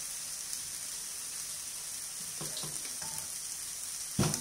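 Onion fries quietly in a pan, a faint steady sizzle with a few soft scrapes and clatters of stirring, one louder knock near the end.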